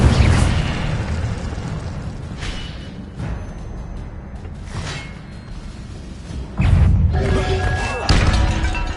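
In Hogwarts Legacy, repeated spell casts including the Incendio fire spell boom and whoosh over a constant rumbling game soundscape, with several loud bursts and a heavier blast near the end.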